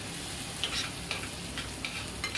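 Already roasted ingredients sizzling in a pan for a veg thali while a spoon stirs them around, a continuous close hiss broken by a few brief scraping clinks, with no speech.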